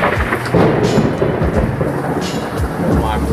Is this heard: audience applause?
no